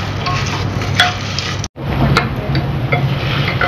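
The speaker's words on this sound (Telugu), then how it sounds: "కందిపప్పు కొంచెం వేగాలండి." Toor dal and dried red chillies roasting in a pan, a steady dense crackle and sizzle with faint stirring scrapes, loud and close throughout, broken once by a brief gap of silence.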